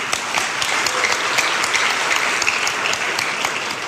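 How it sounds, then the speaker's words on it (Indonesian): Dense, steady audience applause fills the room throughout, many hands clapping together at an even volume at a Christian apologetics talk, with no voices over it. "Tepuk tangan."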